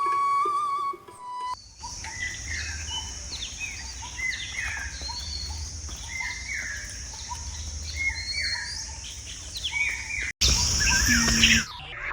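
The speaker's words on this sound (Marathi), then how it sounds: "म्युझियममध्ये प्रवेश करताना पक्ष्यांचा सुंदर आवाज कानी पडतो" Several birds chirp and trill in quick, overlapping phrases against a steady background hum at the entrance to a tank museum, with a brief louder burst near the end.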